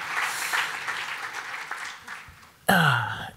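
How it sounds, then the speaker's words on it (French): An audience at a health simulation conference gives a short round of applause that continues steadily, then a sudden loud burst of sound cuts in near the end. "Merci beaucoup Olivier, on peut l'applaudir, hein, il a sauvé une vie quand même"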